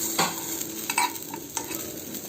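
Garlic cloves and cumin seeds roast in a hot pan under a constant dry sizzle, with repeated close scrapes and taps of a stirring spoon against the metal, no voices present.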